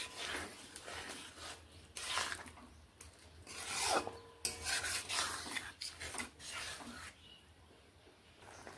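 Potatoes and spices are stirred with water in a pan, giving repeated scraping and rasping strokes of a spoon against the pan, close and fairly quiet, with brief pauses between strokes.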